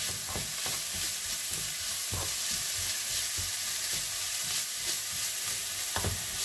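Lean 5% ground meat, 100 g, sears in a pan with a constant quiet sizzle and frequent soft scraping and stirring knocks, no talking.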